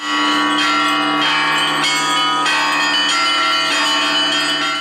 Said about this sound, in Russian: а по селу прокатился малиновый звон